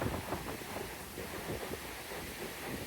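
Strong wind buffets the microphone in a steady, rumbling roar at a beach in Hua Hin, Thailand, with a faint wash of surf underneath.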